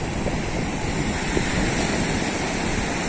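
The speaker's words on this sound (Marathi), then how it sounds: "समुद्र लाटा बघा, तिथे फेसाळणाऱ्या लाटा आहेत" Sea waves breaking on the beach at Rel, a continuous, fairly distant wash of surf with some wind, with no talk.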